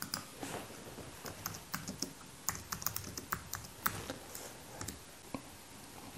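Keys clatter on a computer keyboard in quick, uneven bursts of close clicks and taps, steady typing with short pauses and no voices.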